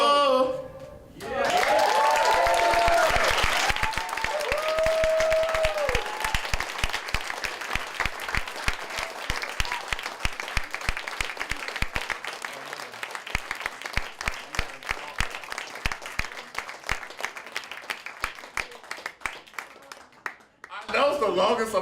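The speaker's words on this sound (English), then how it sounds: "That was the longest applause we ever got right" A large audience breaks into loud, sustained applause with cheers at first, the clapping going on a long while before thinning into scattered claps.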